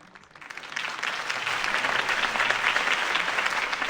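Crowd applause follows a political campaign speech for Harvey Dent in a Batman Telltale video game, swelling from a few claps into sustained, dense clapping that holds steady at moderate loudness with no talk.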